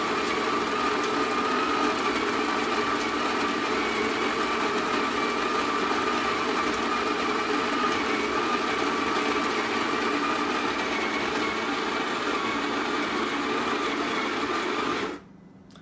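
A coffee machine grinds beans in one long steady mechanical whir, loud and close, holding an even tone for about fifteen seconds before cutting off abruptly.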